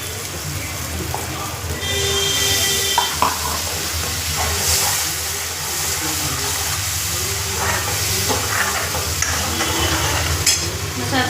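Spiced masala paste with a splash of water frying in oil in a pan, a steady close hiss and sizzle running throughout with faint stirring clinks, no voices.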